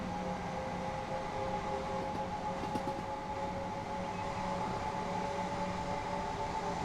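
A train engine in the Train Sim World game, East Coastway route, runs at its top notch with a smooth, steady rumble and hum, faint whining tones, and occasional light clunks.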